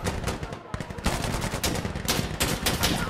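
Dense gunfire in Insurgency: Sandstorm, with rapid overlapping shots and bursts that are loud and close, packed together with almost no pause across the whole stretch.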